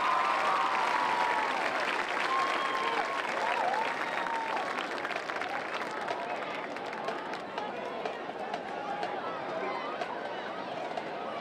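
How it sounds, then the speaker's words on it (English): Sustained crowd applause fills the stands at a Dalton High School football game against Lassiter, a dense steady clatter of clapping with faint cheering that holds throughout and thins slightly toward the end. "Let's give them all a round of applause"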